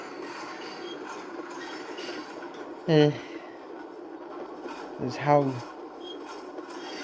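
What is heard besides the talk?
train passing in video game Train and Rail Yard Simulator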